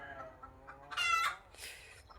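Native country chickens on a farm cluck in short bursts, a few close calls rising over a quieter background of more birds, with no voices.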